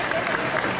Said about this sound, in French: Oui, on peut l'applaudir quand même. Oui, n'oubliez pas d'applaudir.